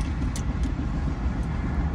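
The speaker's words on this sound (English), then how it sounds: "So, there's a train." A train passes outside a parked car, a steady loud low rumble with faint higher hiss throughout, continuous and close.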